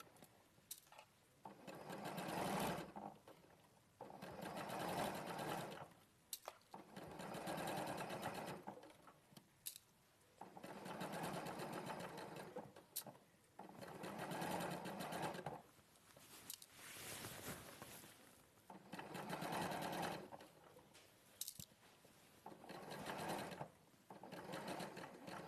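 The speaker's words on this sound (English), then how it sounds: "I'm just going to stitch the armhole in" A sewing machine stitches in an armhole in repeated bursts of steady whirring, each lasting a couple of seconds, separated by short pauses, close and fairly quiet.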